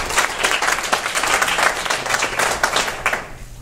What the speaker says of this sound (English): big round of applause for Ryerson